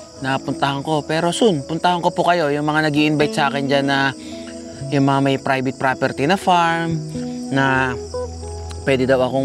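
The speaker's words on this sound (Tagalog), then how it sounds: "Pero tahimik. Kuliglig lang eh." Crickets chirp in a steady, high continuous trill at a mountain campsite in Nasugbu at night, running under someone talking close by.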